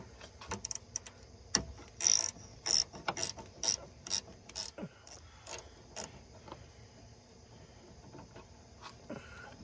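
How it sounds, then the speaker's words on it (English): Ratchet wrench clicking in bursts during radiator work on a 2017 Ram 1500 pickup, sharp close rapid clicks in short irregular runs with quiet gaps between, fading toward the end. "that's where these ratchet wrenches come into play"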